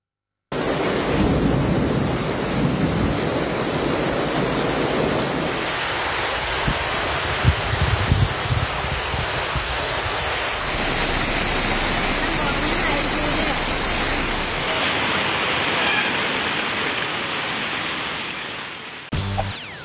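Heavy downpour with strong gusting wind in Kallakurichi, a dense continuous roar of rain and rushing water that stays loud and steady throughout with no voices.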